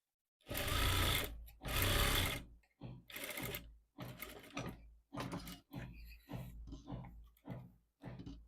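Sewing machine stitching a pocket on a Punjabi-style pant, two long loud runs followed by a series of shorter evenly spaced bursts, close and clear with no talking.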